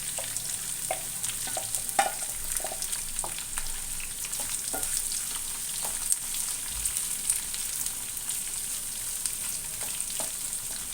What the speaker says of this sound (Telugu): పప్పులు వేగాయి కదా ఇందులో ఉల్లిపాయలు వేసుకుందాము